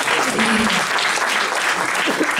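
A crowd applauds steadily and loudly throughout, dense clapping with a few voices mixed in.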